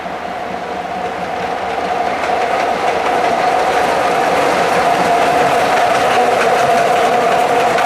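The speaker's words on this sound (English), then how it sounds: "we got ourselves a single diesel work train" A single diesel work train rolls past nearby with a loud, steady rumble and rattle, a tonal engine drone running through it, building slightly over time.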